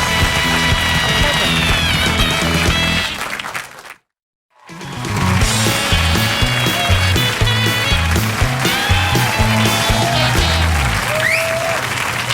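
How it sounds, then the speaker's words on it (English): Studio audience applause on a television comedy panel show, loud and sustained, dropping out briefly around the four-second mark before swelling back to a dense, continuous roar. "Give them all a round of applause"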